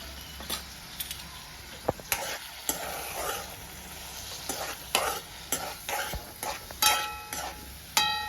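A utensil stirs turmeric and spices through hot oil in a pan, giving a soft, continuous sizzle broken by frequent scraping and clinking strokes at an uneven pace throughout, with no voices.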